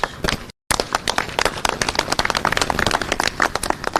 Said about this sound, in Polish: wielkie brawa za to